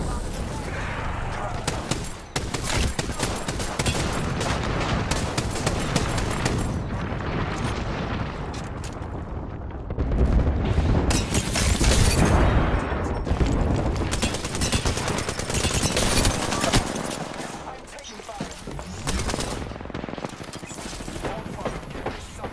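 Video game combat with grenade explosions and gunfire, dense sustained bursts of automatic fire and heavy booms throughout, loud and continuous, with a brief swell of blasts midway and faint game voices underneath.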